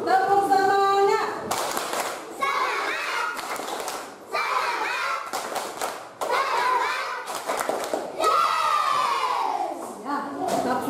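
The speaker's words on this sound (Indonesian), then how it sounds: "Tepuk semangat." A primary school class claps a rhythmic spirit clap in bursts, with children chanting and calling along between the claps in a lively classroom.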